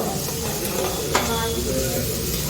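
Green chilli and curry leaf paste frying in oil, a steady broad hiss and sizzle with a faint stir or scrape partway through, holding constant throughout.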